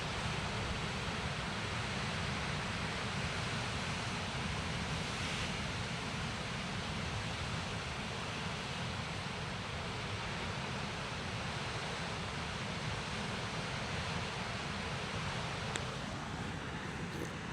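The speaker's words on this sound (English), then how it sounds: "I'll let you listen to the water." Sea waves on the Cornish coast near The Rumps, a constant broad roar of surf heard from the clifftop, steady and unbroken with no voices.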